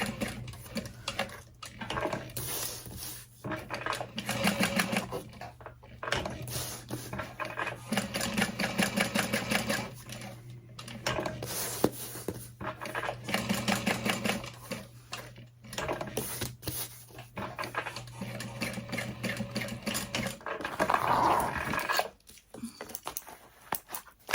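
Sewing machine stitching layers of a handbag at a long stitch length, a loud rapid mechanical rattle in several bursts separated by short pauses, stopping near the end.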